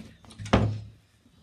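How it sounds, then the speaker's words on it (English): A door opening on a sleety Maryland evening, heard as a single solid thunk with a brief rattle, close and fairly loud, then fading into quiet outdoor ambience. "When I open the door, there's going to be a lot of sleet."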